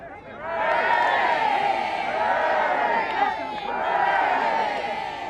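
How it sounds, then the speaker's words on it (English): A large, supportive crowd cheers and shouts steadily for the King, with many voices blending into a loud, sustained roar that swells again near the end, among people who had queued overnight in the cold near the Queen's lying in state. "This, clearly, was a supportive crowd."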